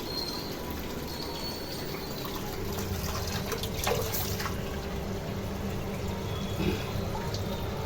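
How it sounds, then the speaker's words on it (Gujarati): Water running steadily from an opened household tap, a continuous close rushing hiss that holds level throughout with faint background voices. "નળ ચાલુ કરી દીધો."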